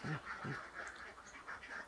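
Ducks on a laying-duck farm give a few rough, nasal quacks close by, heard over steady farmyard background noise.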